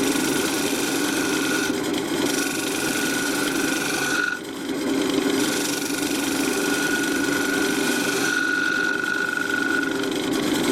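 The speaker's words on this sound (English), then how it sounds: "Using a thin parting tool, I'm cutting a decorative groove." Wood lathe spinning a yew box blank while a thin parting tool cuts a decorative groove, a steady motor drone with a whining cutting tone that breaks off and resumes a few times.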